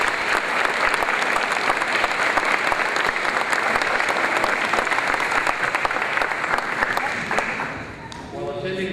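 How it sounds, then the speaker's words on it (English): Outdoor crowd at a town Memorial Day observance claps for an honored veteran, a loud, sustained burst of many hands that thins out near the end as a voice begins to speak. "let's give him a big hand of applause."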